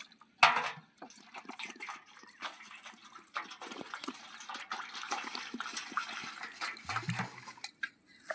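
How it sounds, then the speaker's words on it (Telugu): Fresh water is poured over fish to rinse them after a saltwater wash, a close splash followed by steady trickling and splattering that stays fairly quiet throughout. "ఫ్రెండ్స్ ఇప్పుడు మంచి నీళ్ళు పోస్తున్నాడు."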